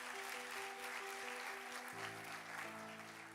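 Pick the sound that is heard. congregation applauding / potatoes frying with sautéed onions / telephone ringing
congregation applauding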